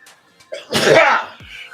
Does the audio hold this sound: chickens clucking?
no